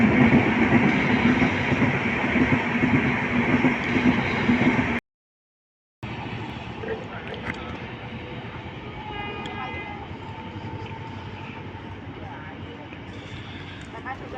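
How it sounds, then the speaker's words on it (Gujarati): A passenger train pulls into an Indian railway station at night, a loud continuous rumble and rail clatter filling the platform, broken by a brief gap, with faint horn tones and station chatter behind. "अभी मैं ट्रेन आ रही वो आपको बताऊंगा जल्दी"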